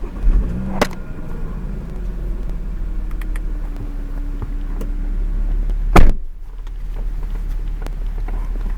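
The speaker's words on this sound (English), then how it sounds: "let me start the car for that" A 2012 Audi A7 engine starts and idles with a steady low rumble, marked by sharp clicks or thumps near the beginning and again about two-thirds through, with no talking.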